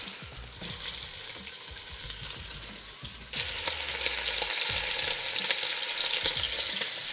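Peppered beef short ribs hit hot oil in a pot, a steady loud sizzle that surges as more pieces go in, with occasional bumps and clinks under the searing.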